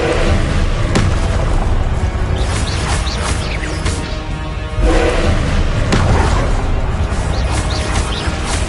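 Confringo explosion spell in Hogwarts Legacy, loud booming blasts and crashing impacts layered over dense game combat noise, with a sharp burst near the middle and more thuds following.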